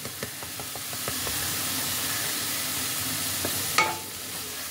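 Garam masala powder stirred into a frying radish and prawn ghonto, a low continuous sizzle with light scraping taps early on and one sharper clatter near the end, no talking.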